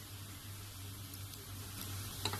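Ginger garlic paste sizzling in a pan of sautéed onions for achari baingan aloo sabzi, a steady soft frying hiss with a faint low hum and a small clink near the end.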